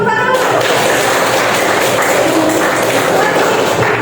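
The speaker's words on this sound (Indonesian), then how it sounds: "Oke, tepuk tangan." A class of secondary-school students clapping hands together in a classroom, a dense, steady patter of many hands lasting throughout, moderately loud and close, with no talk over it.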